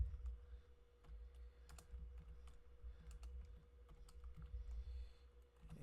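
Steady quiet typing on a computer keyboard while entering HTML code, a continuous run of soft close key clicks over a faint electrical hum.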